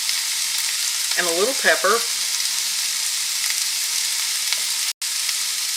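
Peppers and onions sizzle steadily in a pan with leftover meatloaf, a constant loud hiss running through the whole stretch while a voice speaks briefly near the start.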